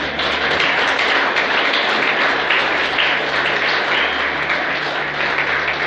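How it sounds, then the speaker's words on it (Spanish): A church congregation clapping together, a loud, dense, sustained applause filling the whole stretch without pause. "Dale un aplauso al rey"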